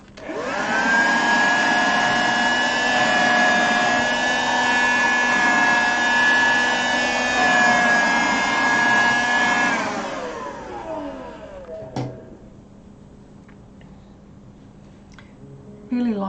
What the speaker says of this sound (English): out comes the vacuum cleaner